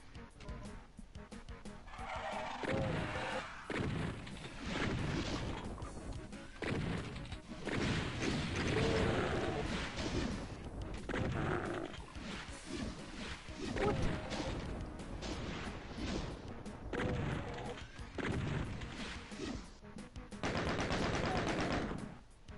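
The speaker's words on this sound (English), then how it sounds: "far too many barrels exploding for you to survive it" Barrels exploding in the video game Doom, with a dense, continuous run of blasts, crashes and gunfire that hardly lets up for about twenty seconds, all quiet in level.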